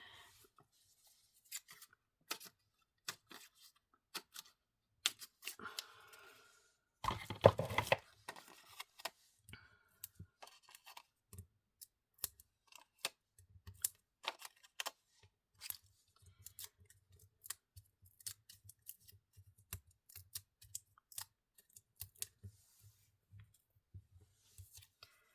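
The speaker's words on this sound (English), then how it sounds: "These need to be snipped." Small pieces of dimensional foam are cut with scissors in a series of quiet, crisp snips and clicks, spaced irregularly, with soft handling noises between them.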